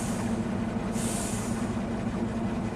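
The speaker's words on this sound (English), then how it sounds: "Sounds like we have some brakes." Air brakes hiss and squeal on a 2020 REO truck, heard from inside the cab over a steady loud engine and road rumble, with a bright hissing burst near the start that fades out over the following seconds.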